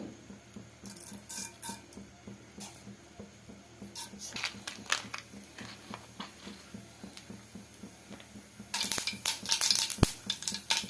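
Mustard seeds spluttering and popping in hot oil while tempering for fenugreek-leaf rice, a quiet scattered crackle of small pops that swells into a denser, louder sizzle near the end.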